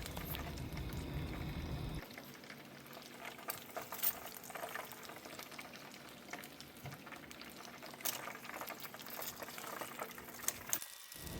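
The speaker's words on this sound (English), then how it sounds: "we're going to put in some other pieces and we're going to deep fry them too" Vacuum-marinated alligator pieces deep fry in a fryer: a close, continuous bubbling hiss of hot oil with small pops and crackles, louder in the first couple of seconds and then settling into a steady simmer, with no voices.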